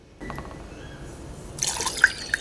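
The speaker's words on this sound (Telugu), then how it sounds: "ఇంకా వాటర్ పోసుకుందామండి." Water pours into a pot of rasam, starting after a brief quiet moment and growing into a splashing fill with a few drips toward the end. The pouring is close and moderately loud.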